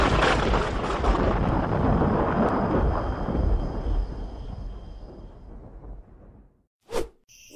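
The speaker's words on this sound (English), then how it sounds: "Looks like we've got some thunder coming up." A thunderclap sound effect in an audio drama: a long, loud rolling rumble that fades over several seconds, followed by a brief sharp crack near the end.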